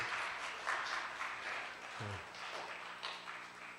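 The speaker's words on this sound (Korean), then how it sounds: "박수 한번 쳐주시고" Faint applause from a church youth worship congregation honoring graduating youth group members, soft scattered clapping at a distance over low room noise.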